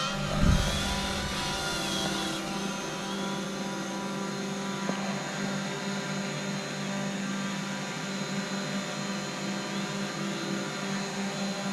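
Small drone in flight, a steady, moderately loud high-pitched whine of whirring propellers with a brief bump at the start.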